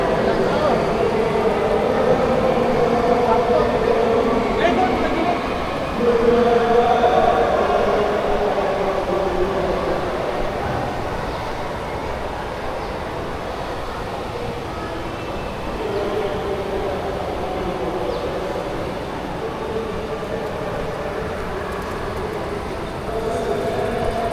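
An MRT train runs near Punggol Coast as a steady, continuous rumble and rolling roar with faint squeals, fairly loud throughout, under intermittent voices talking nearby.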